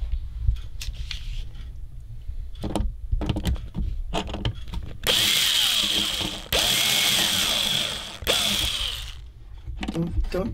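A screw driven into an archtop guitar, with clicks and scrapes followed by three longer bursts of a whirring power driver, close, amid light handling noise.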